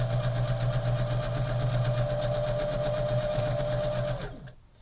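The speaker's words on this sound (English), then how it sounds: "So I'm just going to just sew." A sewing machine stitches through a quilt, running in a steady, fast, even hum for about four seconds before it winds down and stops.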